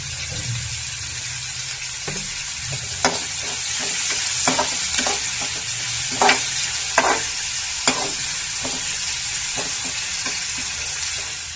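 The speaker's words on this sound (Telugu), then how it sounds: "ఇప్పుడు కూరాకు వేసుకున్నారండి. కొంచెం గోల్డెన్ ఫ్రై అవుతే చాలు." Curry leaves frying in hot oil, a steady broad sizzle with occasional louder crackles and spatters, plus intermittent scraping strokes from stirring, close and continuous throughout.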